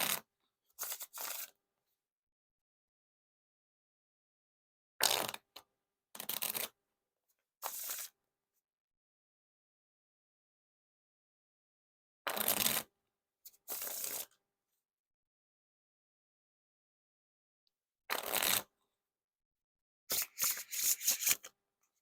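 Repeated riffle and bridge shuffles of a Theory11 Hollywood Roosevelt playing card deck: close, crisp bursts of fluttering card riffles come in small groups, separated by several seconds of silence, with no talk.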